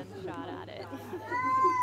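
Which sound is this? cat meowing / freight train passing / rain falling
cat meowing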